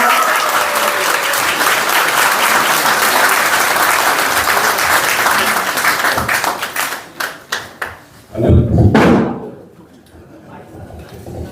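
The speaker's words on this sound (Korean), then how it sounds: "없으시다면 큰 박수와 환호로 맞아주시기 바랍니다" A large hall of party members at a Rebuilding Korea Party Incheon chapter founding rally bursts into loud, sustained applause and cheering that breaks into scattered claps, followed by a few heavy thumps and a rumble.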